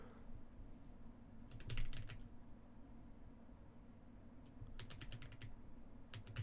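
Two short bursts of quick computer keyboard typing, close but fairly soft over a low room hum, separated by a few seconds of quiet.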